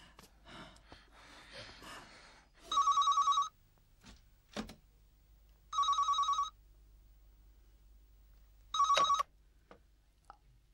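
A telephone rings in three separate electronic bursts a few seconds apart, loud and clear in an indoor scene from a Turkish TV drama, with faint breaths and small movements between the rings.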